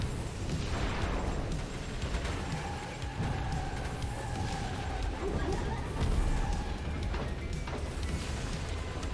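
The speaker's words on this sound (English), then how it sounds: "Gotta bob and weave through the explosions." Muffled explosions and booms in the Twisted Metal video game rumble continuously under a dense, noisy mix, with faint sustained tones and occasional sharp bursts.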